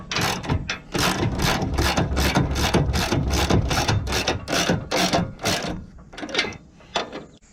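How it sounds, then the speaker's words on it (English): A hand ratchet tightens nuts on the bolts of a Bushwhacker replacement RV camper step, giving a long run of rapid, loud, close clicking strokes with brief pauses near the end. "tighten them up with the ratchet and push the heads into the square holes"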